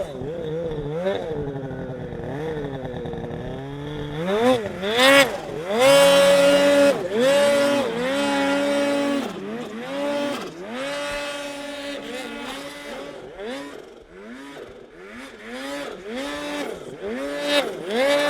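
A modified factory snowmobile engine revs hard while riding, loud and close, its pitch surging and dropping over and over as the throttle is worked.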